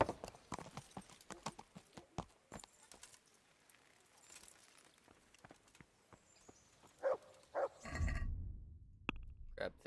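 Horse hooves clip-clop in the medieval role-playing game Kingdom Come: Deliverance, a string of sharp, uneven hoof strikes on hard ground that slows and thins out, followed by a few louder knocks and a brief rumble near the end.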